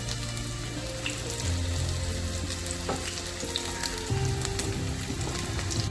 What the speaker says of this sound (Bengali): ভালো করে ফুলকপিগুলোকে লাল লাল করে ভেজে নেবো